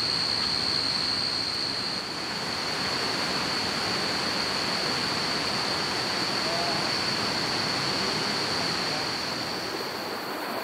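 A river flows through a forest campsite with a steady, even rush of water close by, joined by a constant high-pitched whine and no clear voices.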